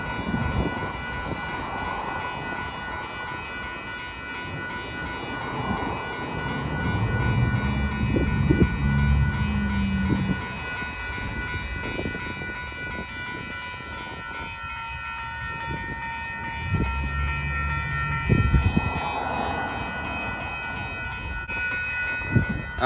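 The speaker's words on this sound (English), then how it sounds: "Yep, he's gone. He's around the bend. And the crossings are still down." A train moving away past a railroad crossing, a low, distant rumble of rolling cars with rhythmic clanks, while a crossing bell keeps ringing steadily in the background and the sound swells and fades over time.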